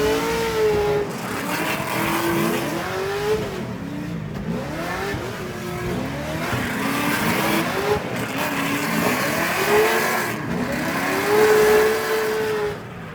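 Race cars on a track at a large Canadian JDM festival scream past one after another, engines rising and falling in pitch with repeated Doppler sweeps, loud and close with no voices.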